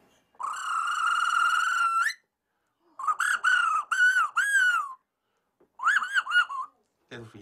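A voice imitates a cuckoo and other woodland birds, a Beijing Tianqiao vocal mimicry performer whistling a long sustained call followed by several shorter warbling bursts, clear and close with pauses between phrases.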